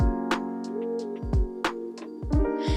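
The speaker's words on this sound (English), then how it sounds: "lo-fi music sounds something like this" Mellow lo-fi music with a steady sustained chord bed and soft plucked or percussive hits scattered over it, played at a moderate, relaxed level.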